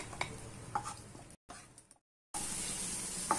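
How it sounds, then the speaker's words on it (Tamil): Raisins frying in a pan for rava laddu, in the same pan used just before for cashews: scattered small clicks and pops, a short break in the sound, then a steady soft hiss. "அதுலேயே உலர்ந்த திராட்சையும் வறுத்துக்கலாம்."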